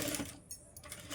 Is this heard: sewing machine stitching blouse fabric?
yes